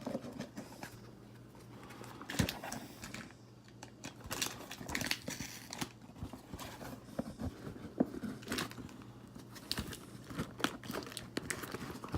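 Crinkling, tearing and crackling of tape and packaging as a heavily taped-up parcel holding an ordered Cal Custom item is ripped open by hand, close up in irregular bursts.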